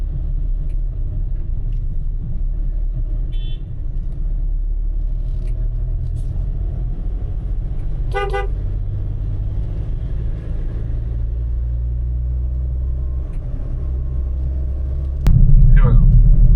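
A car cruises smoothly along the asphalt of the Mumbai-Goa highway, NH 66, with a steady low engine and road rumble throughout, rising in level near the end.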